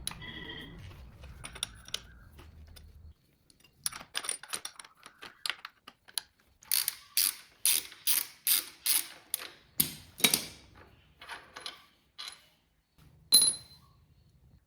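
A ratchet loosens a nut on a KTM Duke 390 during a chain and sprocket job, with rapid close pawl clicks in bursts, then a steady run of repeated ratcheting strokes, separated by brief quiet gaps.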